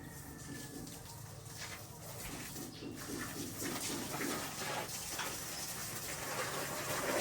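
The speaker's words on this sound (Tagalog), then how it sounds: "magdidilig ako ng mga halaman namin dito sa harapan" Water running from a hose or tap while plants are watered out front, a continuous splashing rush that grows slightly louder toward the end, with faint outdoor background and no talk.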